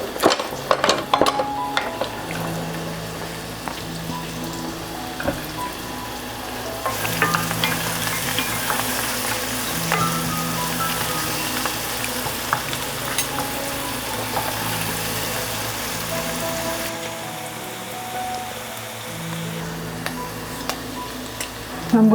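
Onions sauteing for BBQ sauce sizzle and crackle steadily in a hot pan, with occasional stirring and utensil clinks, moderately close.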